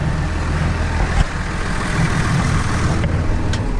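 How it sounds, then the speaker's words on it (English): A tractor powering a grain auger runs at a farm bin during a Southwest Iowa corn harvest, its engine a loud, steady diesel rumble idling continuously throughout with no voices. "Turn off the auger tractor."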